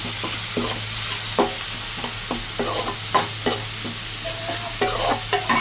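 Ginger paste fries in a pan while being stirred for a country chicken curry: a steady sizzle runs throughout, broken by repeated scraping strokes, close and fairly loud, with no talking.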